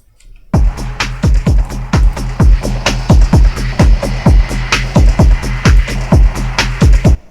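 Stereo-widened Tekno sound with left and right channels sent to separate returns: a loud, driving stream of punchy kick hits with gritty noisy texture, steady fast rhythm, no talking.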